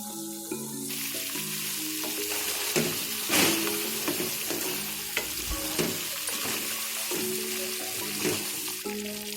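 Lamb karahi is stirred in a hot pan with ground garam masala: a continuous close sizzle of frying, broken by repeated scraping and stirring strokes.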